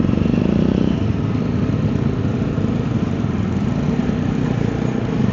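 A group of motorcycles rides off-road on a dirt trail from Naldehra, Shimla toward Sadhupul, with a steady, close engine drone and clatter running unbroken throughout and no voices.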